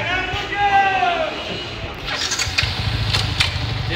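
A Yamaha R15 V3 motorcycle engine is started for a test drive, a whirring starter crank followed by the engine catching and running with a rough, pulsing idle close by, and voices murmur in the background.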